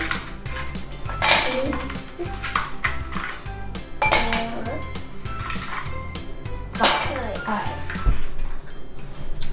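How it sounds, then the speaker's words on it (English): Five ice cubes drop into a cup one after another, each landing as a bright, sharp clink with scattered rattles, close by, while someone talks. "put in 5 ice cubes"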